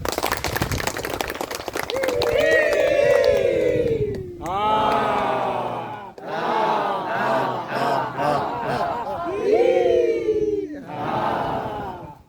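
A large crowd in Indonesia shouts "Hidup Indonesia" in unison and claps, with loud chanting voices and scattered applause rising and falling throughout.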